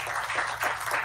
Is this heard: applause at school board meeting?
yes